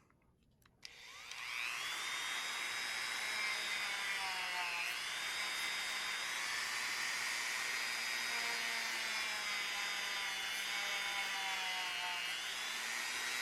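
A Dremel rotary tool trims the plastic edges of a fan, a continuous high whine close by that holds steady for over ten seconds, its pitch wavering slightly as the bit cuts and eases off.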